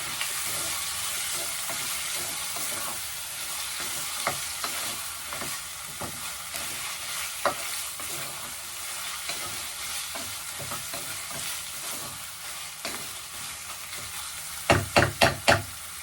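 Spices and chilli powder fry in a pan with a steady broadband sizzle, stirred throughout with soft scraping strokes and a quick run of sharp utensil taps near the end.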